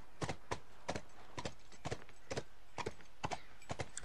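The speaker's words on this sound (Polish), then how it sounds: "Koń wybija nam rytm, nam rytm." Horse hooves clip-clop in a steady, evenly spaced rhythm of sharp strikes in The Last of Us video game, alone and fairly quiet with no talk.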